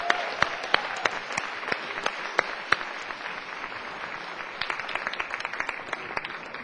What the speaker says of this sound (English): Let's once again end it on a big round of applause for everybody.